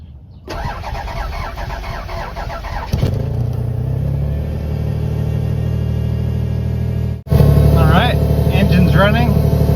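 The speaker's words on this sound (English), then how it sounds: "I'm going to run the pump just to make sure it works and no leaks." Fuel pump on a 2003 Toyota Highlander running close by, a steady engine-like hum and whine that holds level, then jumps louder and fuller partway through, with a voice talking over it.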